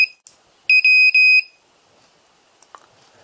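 A custom-built RV water alarm beeps loudly and piercingly in a few short bursts, then is cut off by a reset button, leaving near silence with a faint click.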